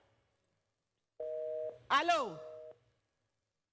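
Telephone tone after the caller hangs up, a steady two-pitch tone holding for about a second and a half, then broken by a brief voice over it before the tone briefly returns and cuts off.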